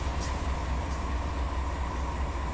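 A heavy freight train rolls steadily in Run 8 Train Simulator, a dense continuous rumble with low clatter, close and uniform throughout.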